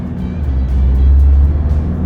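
A 2024 Ford Ranger Raptor Gen 2 pickup accelerates hard, its engine a loud, deep, swelling roar that builds and holds across the moment with no one talking.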